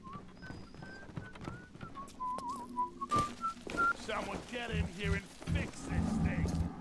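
A character in Bioshock whistles a wavering, fairly quiet tune in the background, with a low rumbling ambience and a person speaking toward the end.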